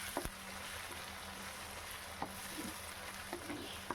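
Ground masala with roasted onion, ginger and garlic sizzles in a pan for a macaroni pasta dish, a steady low hiss of frying broken by occasional light clicks of stirring.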